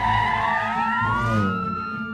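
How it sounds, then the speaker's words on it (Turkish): An ambulance siren sounds loud and close, a wavering rising and falling electronic tone heard alone without voices. "Ambulans çağırmalıyız."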